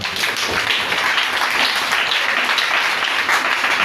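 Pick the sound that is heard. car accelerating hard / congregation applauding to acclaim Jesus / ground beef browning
congregation applauding to acclaim Jesus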